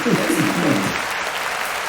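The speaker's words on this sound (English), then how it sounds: "let's see if I hit the applause" A canned applause sound effect plays on a podcast, a brief burst of crowd clapping and cheering, with a voice talking over its start.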